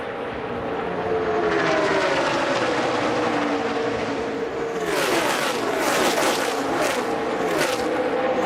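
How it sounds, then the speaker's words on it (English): Loud, continuous roar of race cars at the 2014 Geico 500 qualifying, with several faster cars sweeping past in quick succession near the end over the steady engine drone. "now 2 and 12 slowing on the outside, and here comes some faster cars to their inside"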